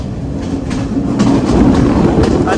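Train rolling along Sri Lanka's scenic mountain railway through tea gardens, steady rumble with rhythmic clickety-clack of wheels, loud and close as heard from aboard, swelling slightly over the clip.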